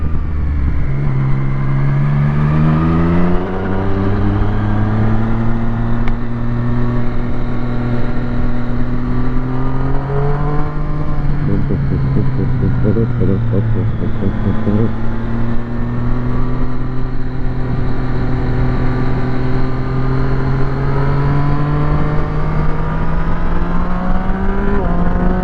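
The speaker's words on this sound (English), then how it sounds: "Hopefully we're getting more engine and exhaust note than wind noise." A car's engine and exhaust note while driving on the road, a loud continuous drone whose pitch climbs and dips with gear changes and throttle, with little wind noise.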